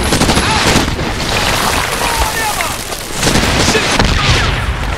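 Dense automatic gunfire crackles and booms in the Medal of Honor video game, loud rapid bursts layered over battle noise, with shouted voices mixed in.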